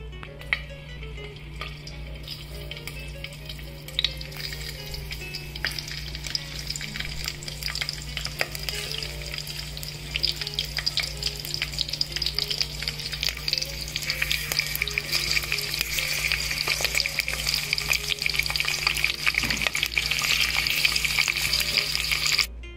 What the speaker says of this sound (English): I am now going to fry this green chilies in this oil.